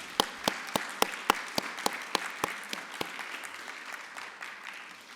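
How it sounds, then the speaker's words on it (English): Applause at a middle school science fair, sharp individual claps rising over a softer patter of clapping from the audience, fairly faint and thinning out toward the end. "let's just give everybody here one last big round of applause"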